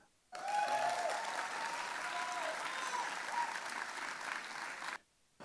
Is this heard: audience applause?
yes